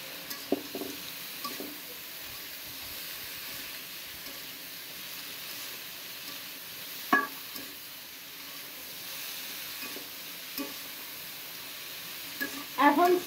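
Bitter gourd frying with dried fish in a pan: a steady close sizzle runs throughout, broken by a few brief utensil clatters and scrapes near the middle and end.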